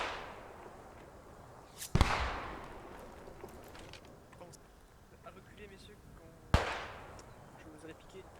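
Gunfire aimed at the player in a Maginot Line video game scenario: two sharp, loud shots about four seconds apart, each ringing out with a short decaying tail over a steady murky background of game ambience.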